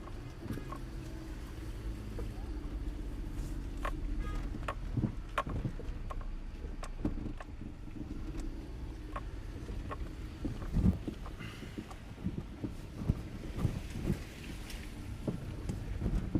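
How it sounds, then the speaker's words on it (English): Low rumbling motor drone with wind buffeting and scattered knocks and thumps, steady throughout, like a boat moving across open water. "We've still got boats coming across"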